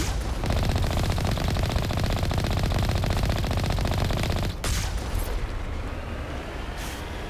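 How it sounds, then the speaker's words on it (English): Dense sustained gunfire from the video game Mass Effect, loud and continuous automatic bursts with explosive blasts, easing slightly toward the end. "So, are you firing at me like all the way over there?"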